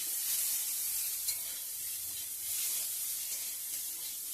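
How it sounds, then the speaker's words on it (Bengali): Potatoes fry in a pan for a vegetarian meal, giving a steady, close sizzling hiss with faint crackle throughout and no talking. "আলু ভাজাটা করে নিচ্ছি"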